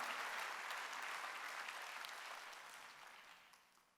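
A church congregation claps their hands during a Wednesday worship service, dense and even applause that starts full and slowly fades away, with no talking over it.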